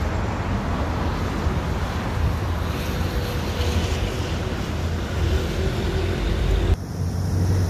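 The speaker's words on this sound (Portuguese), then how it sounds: "Aqui está ventando muito nesse momento" Strong wind buffets the microphone in a steady, loud roar with low rumbling gusts throughout, briefly easing near the end.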